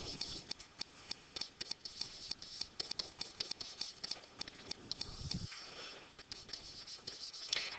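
Pen or marker writing out an algebra equation on a surface, a faint, close run of quick scratchy strokes and small taps in uneven bursts, heard alone without speech.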